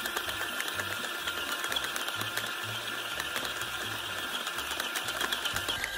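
A stand mixer kneads dumpling dough of flour, salt and hot water in its bowl, giving a steady, fairly quiet mechanical whirring and clicking that runs unbroken throughout.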